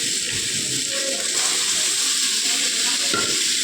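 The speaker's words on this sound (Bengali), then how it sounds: "এখন একটুখানি সটে হোক এটা" Onion and mixed vegetables sauté in a hot pan with a loud, continuous, close sizzle and hiss, broken by occasional stirring scrapes.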